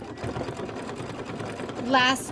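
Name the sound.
sewing machine doing decorative stitching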